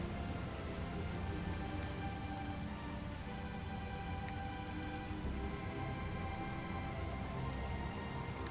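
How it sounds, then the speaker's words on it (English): Rain in Metroid Prime Remastered, a steady dense patter of raindrops falling on surfaces, even and continuous at a quiet level throughout. "God, the rain."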